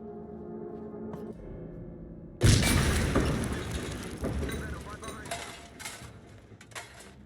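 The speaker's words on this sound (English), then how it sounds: "We just had an explosion." A loud in-game explosion, apparently a propane tank, in HITMAN World of Assassination bursts in abruptly with a deep boom, then trails into a long rumbling, clattering decay of falling debris, after a quieter stretch of ambient game sound.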